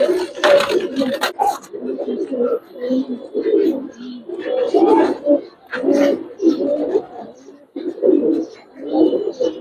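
Giribaz pigeons of the Palla line coo in a loft, repeated throaty bursts in an uneven rhythm, close and clear, with people talking between and over the calls.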